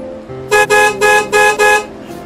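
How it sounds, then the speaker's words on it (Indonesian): A loud car horn honks five times in quick succession, each blast short and blaring, over a low engine rumble. "Di klakson nggak dengar dari tadi?"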